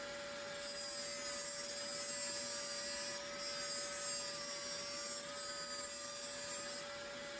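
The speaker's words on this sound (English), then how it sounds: "So first I'm gonna use Dremel to remove this part right here." A Dremel rotary tool cuts into a carbon Tamiya mini 4WD anchor plate, making a loud, sustained high-pitched whine with gritty grinding that holds steady for several seconds, up close.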